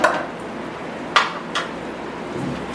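A spoon scraping and knocking against a pot while stirring mint biryani after salt is added, a few sharp metallic clinks over soft shuffling, close and fairly quiet.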